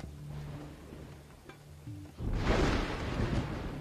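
A loud rumble of thunder in the Bronze Age village game Dawn of Man breaks in sharply after a stretch of quiet ambient tones, rolling broadband and sustained to the end.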